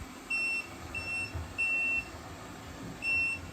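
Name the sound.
robot vacuum locator button beeping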